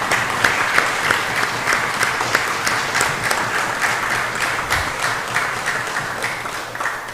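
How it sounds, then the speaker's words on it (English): Applause in Belize's House of Representatives honoring Mr. Eddie Webster at his last sitting, a steady round of clapping from the chamber that holds at an even level throughout. "a round of applause for the service of Mr."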